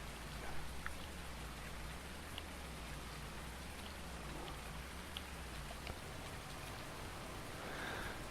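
Steady rain falls in the Farming Simulator 19 video game, an even, quiet hiss of downpour with no breaks and no voices.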